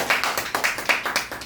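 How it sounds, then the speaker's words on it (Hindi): Audience members clap at a company presentation in a short, light burst of about eight distinct claps, evenly spaced and fairly close, with no talking over them. "जोरदार तालियां होनी चाहिए।"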